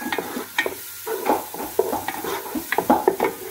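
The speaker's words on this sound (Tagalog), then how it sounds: "Nagigisa na tayo ngayon ng sibuyas para sa ating meat sambosa." Onions sauté in a pan for meat sambosa with a steady close sizzle, and the spatula stirs in frequent short scraping strokes over the frying hiss.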